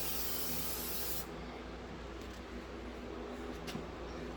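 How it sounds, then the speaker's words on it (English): A spray can of VHT red caliper paint hisses continuously for about a second, then stops, leaving quiet background hiss with a few faint clicks. "So I'm getting better with the spraying part."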